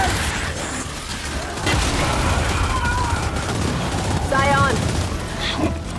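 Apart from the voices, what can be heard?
gunfire in the video game Gears 5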